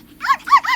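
A little white dog barks three quick, loud times in a close, sharp burst, alone with nothing else audible.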